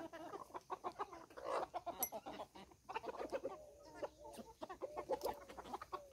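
Chickens clucking near a spot where feed was scattered for chickens and other birds, with repeated soft, irregular clucks and chirps, faint and somewhat distant, continuing throughout.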